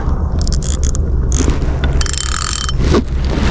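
A fishing reel's drag clicks in quick ratcheting bursts at close range as the drag is loosened, over steady outdoor background noise by a river.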